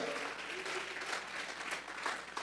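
A church congregation applauds during a Spanish-language sermon, dense continuous clapping from a room full of people, steady and moderately loud throughout with no voice over it.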